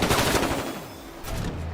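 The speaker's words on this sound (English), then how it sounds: "So many bullets, so little time." Machine-gun fire in the video game Combat Champions, a loud rapid burst of shots that briefly thins out and then resumes, with no voices.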